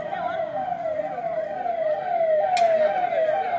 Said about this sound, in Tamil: ஆம்புலன்ஸோட சவுண்டு ரொம்ப ஜாஸ்தியாக கேட்குது